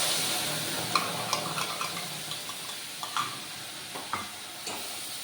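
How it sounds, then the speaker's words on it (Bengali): Spice paste fries in hot oil in a pan while a spatula stirs and scrapes it, giving a steady close sizzle broken by sharp clicks and scrapes of the utensil, with no talk. "মশলাটা এবার আমার কষতে থাকুক"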